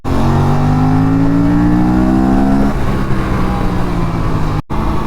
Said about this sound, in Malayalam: ഈ സൗണ്ട് കേട്ടിട്ട് സത്യം പറഞ്ഞാൽ ട്വിൻ സിലിണ്ടർ ആണോ എന്ന് ഡൗട്ട് അടിച്ചു പോകും